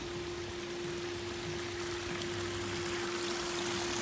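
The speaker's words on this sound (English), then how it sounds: "A couple more waterfalls here" Water rushes steadily in a continuous broadband wash, like a waterfall nearby, with a faint low hum underneath and no voices.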